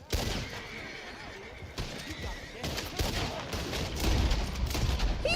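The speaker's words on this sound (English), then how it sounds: "He shot my horse!" A horse whinnies after being shot in the online western game Red Dead Online, amid bursts of gunfire and clattering action, with a loud, busy mix building toward the end.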